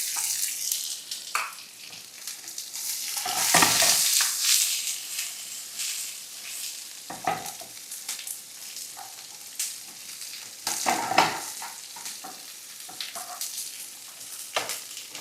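Chopped ginger and onion sizzle steadily in hot oil in a pan. A constant crackling hiss swells briefly as the pieces are stirred, with a few sharper bursts, and no voices are heard.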